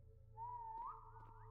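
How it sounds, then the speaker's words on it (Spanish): A person whistles a short, quiet, rising tone that bends upward and then trails off, heard close against a faint steady hum. "Ahorita sigo chiflando más."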